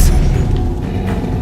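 The Expelliarmus spell in Hogwarts Legacy gameplay gives a brief, heavy boom with a rumbling low body and faint crackling on top. It lasts about a second and a half, loud and close, with no talk.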